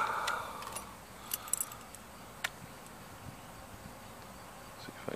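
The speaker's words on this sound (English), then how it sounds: "Even has the original AMF Harley Davidson keys." Original AMF Harley-Davidson keys for a 1980 Ironhead Sportster jingling faintly in a few small metallic clinks, scattered bursts over quiet background hiss, close but soft.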